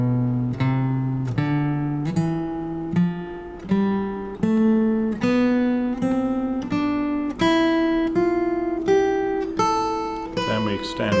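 A guitar plays a scale one note at a time, each plucked note ringing cleanly at a steady, unhurried pace, stepping upward with no talking.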